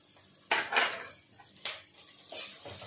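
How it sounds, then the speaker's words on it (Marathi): A spoon stirring carrots and onion in a pan: a few sharp metallic clinks and scrapes in short bursts, fairly close and moderately loud, with quiet gaps between. "आता आपण गाजर टाकणार आहोत। गाजर थोडं कडक असतं म्हणून ते आधी टाकून द्यायचं।"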